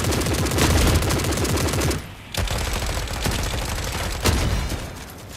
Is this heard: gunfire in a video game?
yes